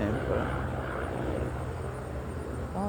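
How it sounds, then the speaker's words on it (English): A helicopter passing overhead outdoors, a steady broad rotor and engine rumble at moderate distance that fills the background continuously, with a person talking nearby. "Oh, the helicopter, okay."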